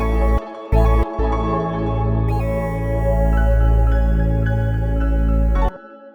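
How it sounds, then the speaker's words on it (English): A virtual synth lead plays scattered sustained notes over deep bass tones in a smooth R&B beat, loud and close, with brief cutouts near the start and an abrupt stop at the end. "It's just gonna be a lead from a synth,"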